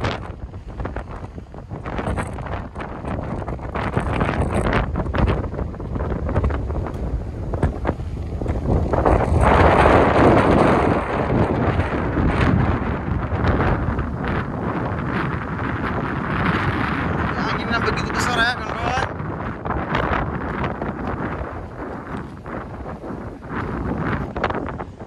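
Strong wind buffets the microphone at Hawaii Kai beach, a loud, continuous rushing roar that swells around the middle and never lets up for the whole stretch.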